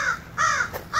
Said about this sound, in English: I survived the land of the crows.